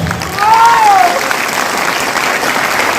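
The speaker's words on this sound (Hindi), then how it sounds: "आज अभी आप ताली बजा रहे हैं" An audience at a Safe Shop business function claps, a dense steady patter of applause lasting throughout, with a brief rising and falling whistle-like tone near the start.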